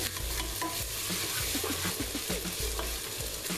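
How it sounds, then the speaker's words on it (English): Tomato paste is stirred into onions in a pan, giving a steady close sizzle broken by repeated soft scraping and knocking strokes of a utensil against the pan, with no voices. "you're gonna add that tomato paste and stir it in"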